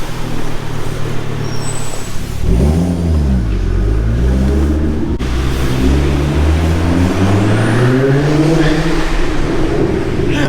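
A 15-year-old Volvo V70R estate revs hard in traffic, its engine note sweeping up and down through several loud, close gear pulls over road noise.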